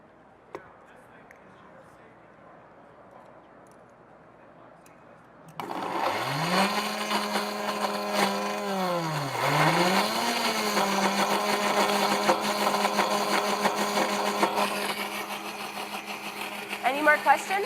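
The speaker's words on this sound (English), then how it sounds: "a tiny, tiny, tiny bit of water just to get the blender going" A countertop blender whirs loudly as it purees fresh mango with a tiny splash of water, its motor pitch dipping and recovering as the fruit catches, after a quieter stretch of room murmur.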